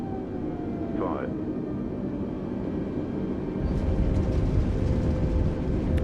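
A FlyByWire A32NX airliner in Microsoft Flight Simulator rolls out after landing, its thrust reversers roaring up into a broad, loud rush of engine noise that swells midway, with a voice talking throughout.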